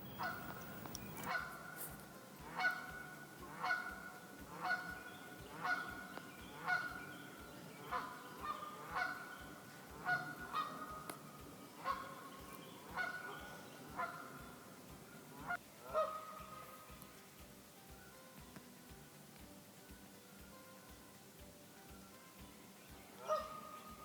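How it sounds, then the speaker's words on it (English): Canada goose giving a series of deep, nasal honks at a fairly steady rhythm, repeated over and over, with a few overlapping calls from other geese in the flock; fairly close and clear, no talking. "their call is a deep nasal honk"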